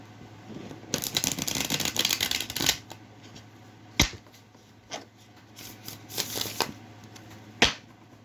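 Tarot cards are riffled and shuffled in a long crisp burst up close, followed by a few sharp taps and shorter shuffles in a quiet room.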